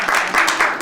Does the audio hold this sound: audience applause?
yes